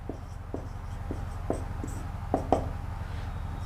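Chalk or marker writing on a board in a classroom gives a series of short, faint taps and scratches in an irregular rhythm over a low background hum.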